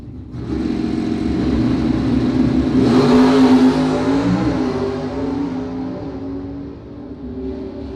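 Drag racing cars launch down a quarter-mile strip in a loud, sustained engine roar. The sound swells to a peak midway, then fades slightly as the cars pull away.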